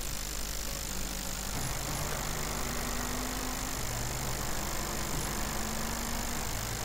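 Steady engine drone of a car driving in the game SAMP, with gliding pitch changes as it accelerates and shifts, over a constant background hum.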